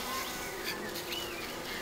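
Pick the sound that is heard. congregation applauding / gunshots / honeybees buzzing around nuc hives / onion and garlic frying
honeybees buzzing around nuc hives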